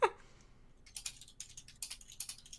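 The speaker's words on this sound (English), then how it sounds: "What are you typing?" Keys clack on a computer keyboard in a quick, uneven run of light taps, close and clear, following a single sharper click at the start.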